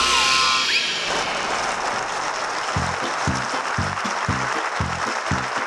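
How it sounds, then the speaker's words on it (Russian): Studio audience applause on a Russian comedy show, a dense sustained roar of clapping that fills the room, with faint rhythmic low thumps pulsing underneath in the second half. "Ваши аплодисменты просто изумительны."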